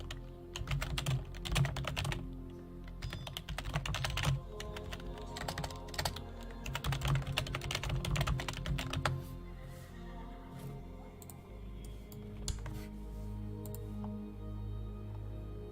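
Rapid, uneven keystrokes on a computer keyboard, close and fairly loud, with a constant low hum running underneath, during a Crusader Kings 2 game session. The typing continues for about nine seconds and then stops.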